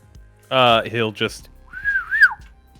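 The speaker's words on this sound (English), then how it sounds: "He'll whistle, and Caesar will charge all the way here." A person whistling a short wavering tune of two rising and falling notes after a burst of voice, fairly close and clear.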